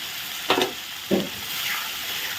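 Onion, tomato, ginger and chili paste fries with spices in a hot pan, giving a soft continuous sizzle with two short bursts of scraping as the paste is stirred.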